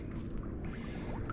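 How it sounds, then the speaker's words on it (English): A yacht under sail alone on the Tasman Sea, with a steady wash of water against the hull and low wind rumble throughout, fairly loud and close with no voices. "this is my first solo sail in a yacht, and it's crazy."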